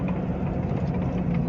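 A Lalpari state transport bus engine rumbles steadily and close by on the Mumbai–Goa highway, a dense low idling drone with no talk over it.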